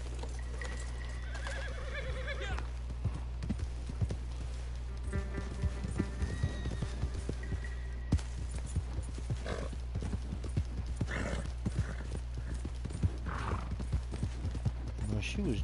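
Horse hooves clip-clop steadily in Red Dead Redemption 2 over a constant low game drone, with a brief whinny early on and sharper hoof strikes scattered throughout.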